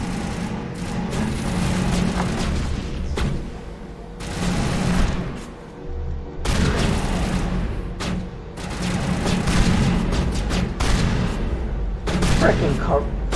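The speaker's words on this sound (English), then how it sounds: "Hey, stop shooting at me." Gunfire in Mass Effect on Insanity difficulty, dense bursts of shots and booming impacts repeating loudly through the fight, with a voice speaking between volleys.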